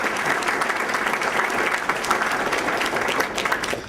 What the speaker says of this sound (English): let's give one more round of applause for all our 2013 Merit Award recipients